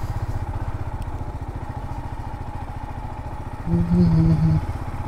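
A motorcycle idles nearby at a Rock Garden parking area in Ranchi, its engine putting out an even, rapid pulse, then rising to a louder rev for about a second before settling back.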